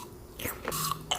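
Chewing a sour lemon up close, a brief wet squelch and a couple of juicy mouth sounds in quick succession, fairly soft and with no voices.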